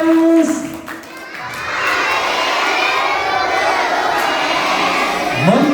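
Elementary schoolchildren cheer and shout together in a loud, continuous crowd roar mixed with clapping, following a brief spoken phrase at the start, swelling and holding close and strong.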